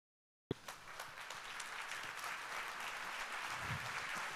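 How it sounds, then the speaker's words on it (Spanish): Audience applause for Google at the EISUMMIT Caracas 2024 retail conference, a sudden onset of dense clapping from a large crowd that holds steady and full for about four seconds. "Fuerte el aplauso para Google."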